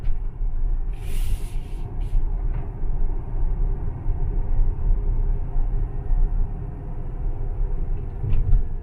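Steady low road rumble with a faint tire whine inside a 2017 Tesla Model X 75D electric SUV with all-wheel drive while it drives, continuous and even throughout, the motor barely audible.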